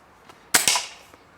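A shot fired at a shooting competition: a sharp, loud crack followed almost at once by a second report, with a short ringing decay; faint clicks before and after.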